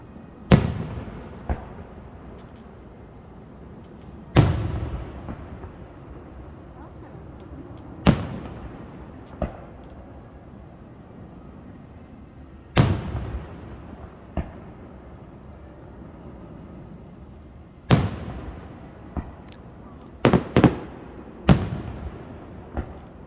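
July 4th fireworks over North Conway, New Hampshire, a series of sharp distant booms spaced a few seconds apart, some doubled or in quick clusters, each trailing into a fading crackle against quiet night air.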